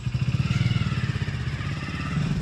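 A motorcycle engine runs close by with the throttle held open, giving a steady pulsing rumble with a slight rise in revs and no voices over it.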